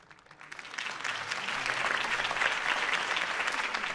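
Applause from a crowd after a campaign speech in Batman: The Telltale Series, a steady dense clapping that swells within the first second and holds loud to the end, with no talk over it.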